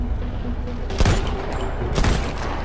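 Gunfire in the mobile shooter Modern Combat 5: Blackout, a loud dense rattle of shots with two sharper blasts about a second apart, under continuous game noise.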